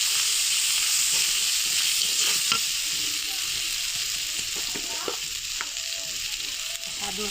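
Spice paste of ginger and cumin sizzles and hisses loudly in a hot pan, with soft scraping taps as it is stirred, and no voices.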